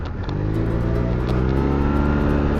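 A Yamaha TMAX 530 DX scooter fitted with a Termignoni exhaust revving close by, a loud throaty engine note climbing and holding with layered harmonics.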